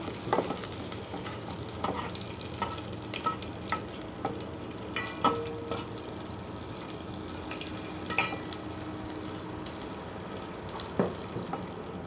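Spice paste of turmeric, chili, ginger-garlic paste and salt sizzles as it is fried for a fish curry with potatoes, a steady low frying hiss broken by scattered clicks and scraping stirs, no voices.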